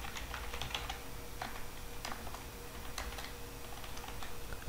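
Typing on a computer keyboard while entering a username and password at a login screen, a steady run of close, crisp key taps over a constant low hum, with no voices.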